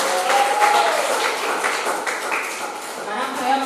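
Audience clapping at a Christian church gathering in Indonesia, a loud, dense burst of many hands close by, with voices mixed in underneath.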